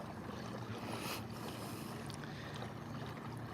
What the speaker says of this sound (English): I'm riding on a Hobie ultralight kayak this morning.